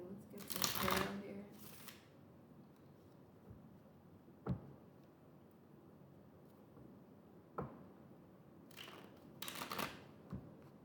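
Tarot cards being shuffled by hand, a loud riffling burst near the start and again near the end, with soft taps and card placements between in a quiet room.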